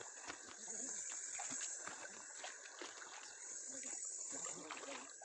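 A river flows quietly in the distance as a soft, continuous wash of water under steady insect chirping, with faint scattered sounds.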